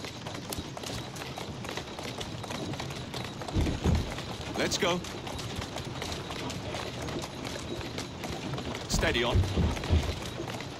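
Galloping horse hooves in Assassin's Creed Syndicate drum in a fast, continuous rhythm over street ambience, with a rider speaking briefly to the horse and a couple of louder thumps along the way.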